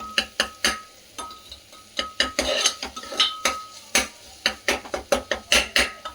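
Tomato masala for a chicken keema and chana dish is stir-fried in a pan. A utensil strikes and scrapes the metal in quick, loud, close clanks, around two dozen over several seconds, with no talking.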